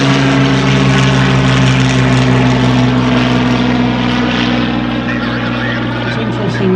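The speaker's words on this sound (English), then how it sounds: "The Hurricane on a go-round, the Sea Hurricane." A Hawker Hurricane and a Sea Hurricane at a display fly past, their piston engines and propellers producing a loud, steady, close roar through the whole stretch, with a faint voice underneath.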